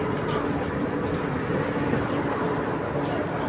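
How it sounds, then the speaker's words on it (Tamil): A metro train runs on an airport-to-central city line, heard from inside as a steady, loud broadband rumble and roar that stays constant throughout without breaks. "metro train running"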